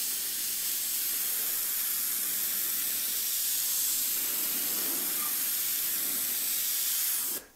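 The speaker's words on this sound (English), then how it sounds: "The paint is barely coming out and the airbrush really has troubles with shooting that paint." Airbrush spraying Createx paint without reducer at too little air pressure, giving a steady, broad airy hiss that holds for about seven seconds and then cuts off abruptly.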